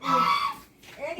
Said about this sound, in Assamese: এয়া হাঁহে চিঞৰিছে শুনিছা নাই